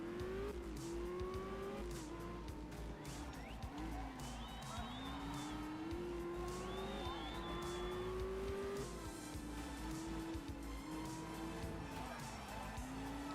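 A rally car in the video game Art of Rally sliding on loose surface, steady engine drone with rising and falling revs and tire scrub, faint talk underneath.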